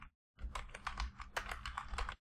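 A command typed on a computer keyboard in a quiet room, a quick run of about a dozen crisp key taps in an even rhythm, close and fairly soft.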